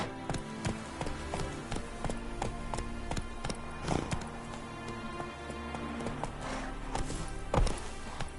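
Horse hooves clip-clop steadily at a brisk walk in The Witcher 3, a continuous rhythmic patter of hoof taps over a steady background bed, with a few louder strikes standing out.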